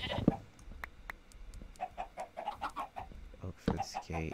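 Minecraft chickens clucking in a game, several short clucks and pecking blips scattered through the clip, close and fairly clear, with someone speaking over parts of it.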